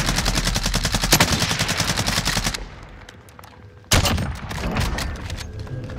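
Sustained automatic gunfire in Call of Duty Warzone on the Verdansk map hammers away loud and close, drops to a quieter lull, then bursts back in with heavy rapid shots.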